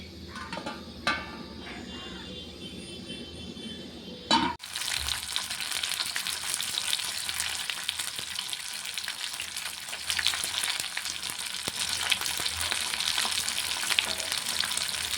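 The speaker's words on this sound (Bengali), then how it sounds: "আমি মাছগুলো ভেজে নেব।" Fish frying in hot mustard oil in a pan, starting quiet with a few knocks, then a sudden loud, dense sizzle and crackle that continues steadily and close for the rest of the clip.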